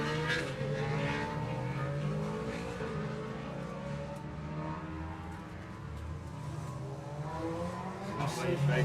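Racing motorcycles at the Kirkistown circuit, some BMW machines among them, accelerate past in a steady loud engine roar with rising and falling revs, near and continuous, under background commentary.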